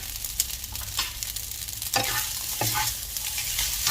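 Laab chicken fried rice with shallots being stir-fried in a pan: a steady crackling sizzle broken by several sharp spatula scrapes and clanks against the pan, close up and with no talking.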